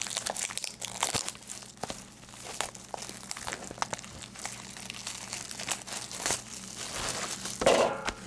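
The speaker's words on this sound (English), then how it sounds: "Get the plastic off." Plastic wrap is peeled and crinkled off a PS3 game case at close range, with irregular bursts of crackling and tearing that continue steadily without pause.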